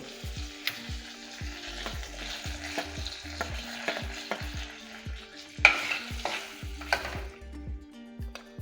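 Bay leaf and asafoetida sizzle in butter and oil in a pan, with a steady hot crackle and repeated near spoon-stirring scrapes and clinks, no voices.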